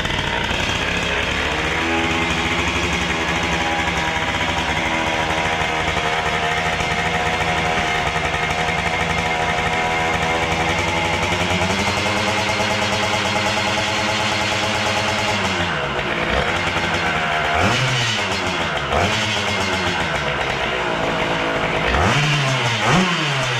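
A restored Derbi moped engine fires up and revs continuously, its harmonic drone rising and falling through several throttle blips, with sharp rev swoops near the end, loud and close throughout with no talk.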